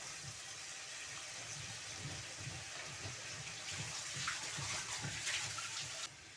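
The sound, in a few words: rinsing a pot and adding water while cooking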